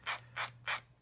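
A hard sanding stick rubs a solder lump on a small photo-etched metal jacket for a scale machine gun model: three short, close, even scraping strokes over a faint steady hum.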